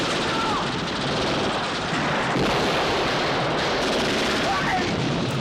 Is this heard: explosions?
yes